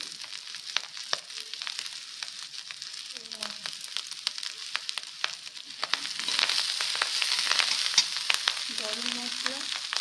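Chilli powder and spices sizzle and crackle steadily in hot oil in a pan, with occasional stirring scrapes and a brief background voice, the frying growing denser toward the end.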